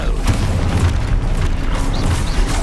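A booming Expulso explosion spell going off in the Hogwarts Legacy video game, a loud deep rumble with crackling bursts and some faint higher tonal effects.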